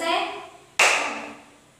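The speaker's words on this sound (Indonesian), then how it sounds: "Tepuk ganjil 1 kali." Children in a classroom play a clapping game, giving one sharp, close clap in unison after a brief moment of voices.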